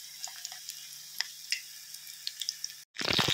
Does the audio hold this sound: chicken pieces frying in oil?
yes